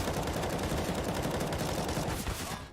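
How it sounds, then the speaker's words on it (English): Dense, rapid rifle fire crackles continuously in a Counter-Strike match on the Overpass map, heard as overlapping bursts from several guns throughout. "Some good rifle covering from Fugly."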